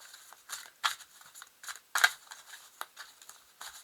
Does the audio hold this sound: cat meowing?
no